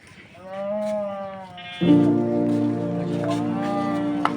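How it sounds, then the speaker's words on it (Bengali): Cows mooing at a livestock delivery in Noakhali, Bangladesh: one long, drawn-out low moo, then a louder, fuller moo that joins it and carries on to the end, close by. "নিয়ে এসব গরুগুলো"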